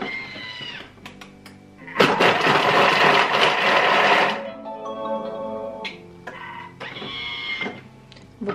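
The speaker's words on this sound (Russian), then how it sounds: "Вот так быстро все измельчил термомикс." A Thermomix food processor chopping salad ingredients, with a loud whirring motor that spins up in bursts, runs steadily for a couple of seconds, then slows and pulses again nearby.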